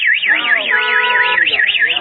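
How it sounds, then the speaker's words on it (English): A car alarm fitted to a bicycle wails close and loud, a rapid, evenly repeating up-and-down siren with voices speaking underneath. "Man bicycle have a car alarm."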